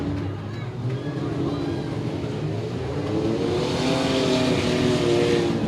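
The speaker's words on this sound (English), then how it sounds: "You can hear that motor, just RPM, no resistance on it." A race car at a county fair crash event revs freely with no load because of a broken transmission or CV joint, its engine note rising and wavering steadily for several seconds amid crowd and arena noise.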